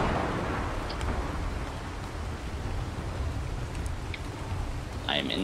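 Rain falls steadily in Ark Survival Evolved, a continuous hiss of a downpour throughout, with a faint chirp near the end.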